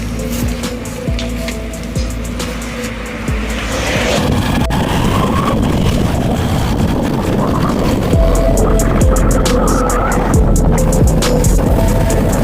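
A motorbike rides along a road, its engine rumble mixed with heavy wind rush. The noise is continuous and close, growing louder after the first few seconds.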